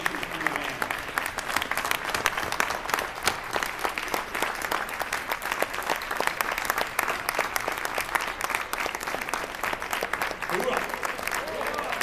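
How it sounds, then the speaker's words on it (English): Sustained, dense applause from an audience at a speech event honoring a former cadre leader, steady and loud across the whole stretch with scattered voices and a brief shout near the end. "please join me in giving a rousing round of applause in appreciation for the man"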